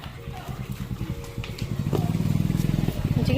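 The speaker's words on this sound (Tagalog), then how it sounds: "Dito tayo lang. May motor." A motorcycle engine putters nearby and grows louder as it approaches, its rapid pulsing rumble rising steadily, with people talking over it.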